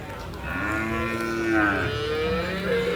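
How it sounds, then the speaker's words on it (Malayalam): Young buffalo and bull calves low at the Payyanad Cholakkal cattle market, one drawn-out moo followed by a second, shorter call, close and clear. "ഇവിടെ കുറച്ച് ചെറിയ പോത്തുകുട്ടികളുണ്ട്"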